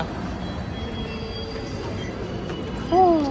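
Metal metro train wheels squeal over a steady rumbling rail noise at JP Nagar metro station in Bangalore, with a sharper, louder screech rising near the end.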